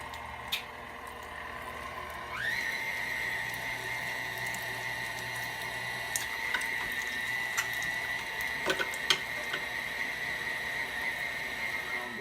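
A meat grinder grinding meat for sausage gives off a steady mechanical whine that jumps higher in pitch early on, with intermittent clicks and clanks over a low hum.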